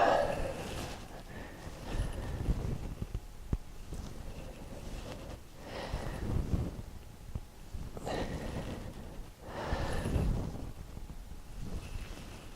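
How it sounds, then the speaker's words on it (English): Slow, controlled breathing during a spine mobility exercise: about three long, even breath cycles, each a soft broadband rush of air close to the microphone, spaced roughly four seconds apart with quieter pauses between. "And just keep slow and controlled breathing the whole time."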